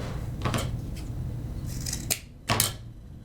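Scissors snip through burlap while a fall-themed scarecrow hat is trimmed, giving several sharp, close cuts at an uneven pace, with a quiet background between them.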